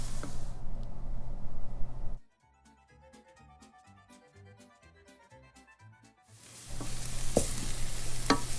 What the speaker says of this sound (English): after the onions and garlic have been sauteing a while